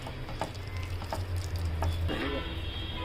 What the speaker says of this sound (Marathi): आता आपण मीठ टाकूया, परतून घेऊया